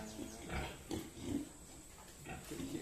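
Newborn piglets from a litter of 21 grunt and squeal in short, repeated bursts, close and moderately loud over steady pen background noise.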